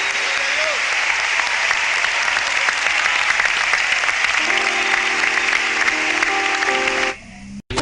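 Sustained, loud applause from a church congregation praising the Lord, steady clapping throughout, with a sustained tone entering under it midway before it cuts off abruptly near the end.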